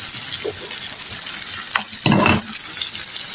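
Pointed gourd tipped into a pan of fried onion and ginger, a brief louder sizzling burst after a steady background hiss of frying.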